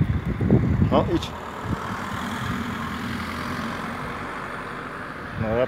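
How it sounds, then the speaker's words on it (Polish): A car on a road passes at moderate distance, its engine and tire noise swelling and fading as someone talks over it. "Samochód już jedzie."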